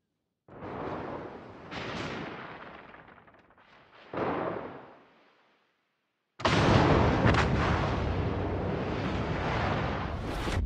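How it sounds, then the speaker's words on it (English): Heavy warship artillery fire in the World of Warships naval game, with booming broadband salvos and rumbling decays early on, then a sustained loud roar of continuous gunfire and blasts through the last four seconds. "Concentrate fire on the target."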